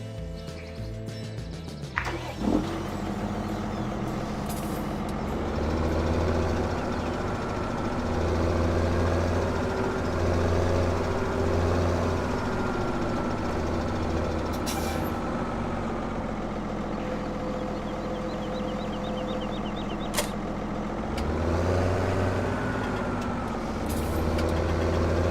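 A tractor in Farming Simulator 17 on a dairy farm, a steady low engine drone that rises and settles as it drives, with a few clicks and a brief hiss along the way, no talk.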